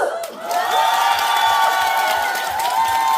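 Concert crowd at the Gwangjin-gu festival cheering and applauding for a singer, a loud sustained wash of whoops and shouts over clapping, with a voice rising briefly above the noise.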